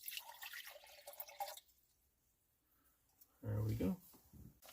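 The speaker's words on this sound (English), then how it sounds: "And I'll just pour it in my little, my electric kettle here." Water poured from a cup into an electric kettle at a high-elevation truck camp in a national forest, a soft splashing trickle followed by a louder close gush, with someone talking over the start.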